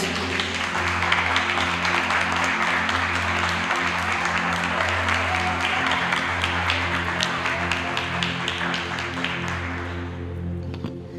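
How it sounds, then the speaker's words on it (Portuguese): A church congregation applauds during a worship service, a dense, steady wash of many hands clapping over a low organ-like sustained tone, continuing for about ten seconds before easing off at the end. "Você pode aplaudir a Jesus, amém, irmãos?"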